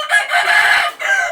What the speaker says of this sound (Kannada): ಕೋಳಿ